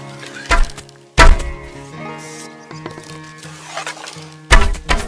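Arrows striking a target in the medieval game Kingdom Come: Deliverance 2, heavy close thunks, one near the start, another after a second and a third near the end, with quieter ringing tones between them.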